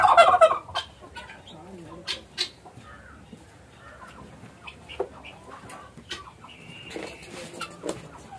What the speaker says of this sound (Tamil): என்ன வான்கோழி பாருங்க, இப்படி அழகா நிக்கிறது வான்கோழி.